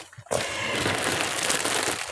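A large plastic shopping bag being handled, loud continuous crinkling and rustling up close that starts abruptly and carries on without pause.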